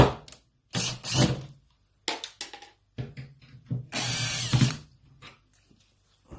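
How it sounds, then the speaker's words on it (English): Screws on a door handle are undone with a power driver in short, close whirring bursts, stopping and starting several times, with quiet gaps and small handling clicks between. "So to do it, you just need to undo the screws."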